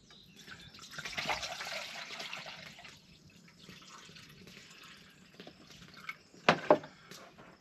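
Water pours and trickles into a pot at a campsite, a steady liquid splashing in the first few seconds that then thins to quieter dribbles, followed by a couple of sharper clanks near the end.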